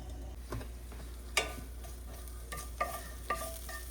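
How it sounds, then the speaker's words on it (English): Diced onion sautés in a little olive oil in a skillet used earlier for pork chops, a faint steady sizzle with a few sharp utensil scrapes and taps, close and without talk. "We just want to kind of saute this just a little bit."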